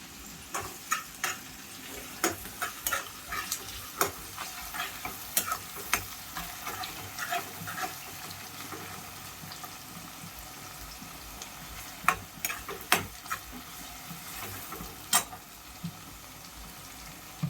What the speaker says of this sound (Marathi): जिरे गरम झालेले आहेत आपण कांदा टाकूया याच्यात